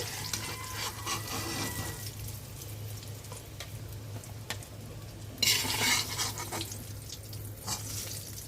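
Eggplant pieces fry in mustard oil in a pan, a steady close sizzle broken by utensil stirring and a brief louder burst of crackling midway.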